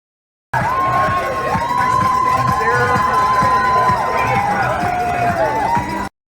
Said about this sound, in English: This group behind me right here, this is what makes running races in Chicago so much fun. The crowds.